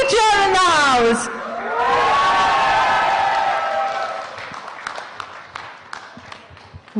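Crowd at a smartphone launch event cheering, whooping and yelling loudly, with prominent hollering voices at first, then a sustained roar that thins into scattered claps and shouts.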